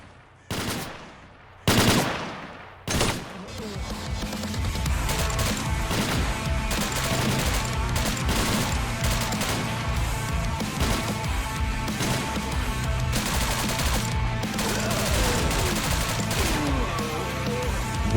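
Gunfire in a STALKER story mod firefight: a few separate loud shots, then a sustained, dense barrage of rapid automatic fire and overlapping bursts that continues without letup.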